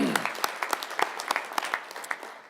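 Applause from an audience at the 2018 Young Retailer of the Year awards ceremony, a steady patter of many hands clapping with sharper individual claps standing out, moderately loud and fading slightly toward the end.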